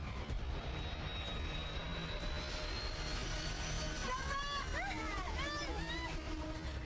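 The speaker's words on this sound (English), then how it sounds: "the aircraft lands quite long, about halfway down the runway." A fixed-wing airliner lands long and fast on a runway in extreme weather, its engine roar a steady, loud broadband rumble, with voices and tonal whistles rising over the later part.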